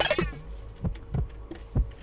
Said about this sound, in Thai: ทำไมมันเต้นตึกตักตึกตัก ไม่พักเลย